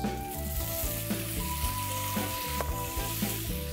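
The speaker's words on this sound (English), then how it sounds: "Now we can add the tomatoes." Tomatoes go into a hot, sizzling pan of oil with peanuts for tomato rice, giving a steady broad hiss over a rhythmic musical backing.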